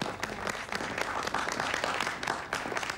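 A crowd at a trophy presentation for the Angelo Cup applauds, with brisk, continuous clapping from many people at moderate loudness.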